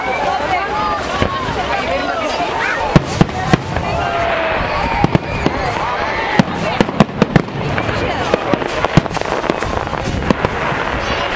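Fireworks display at an outdoor festival in the Suðurnesjar area of Iceland, with sharp bangs and crackling bursts popping repeatedly over steady crowd murmur and distant noise, growing denser in the second half.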